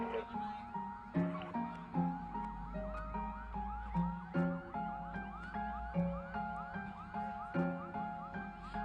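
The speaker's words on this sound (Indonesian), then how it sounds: "mobil kendaraan pemadam kebakaran masuk ke stasiun Dekon." A Cilegon city fire truck's siren wails in repeated warbling sweeps, faint and steady, as the truck pulls into a decontamination station during an industrial-disaster emergency drill, with rhythmic knocks and a low rumble underneath.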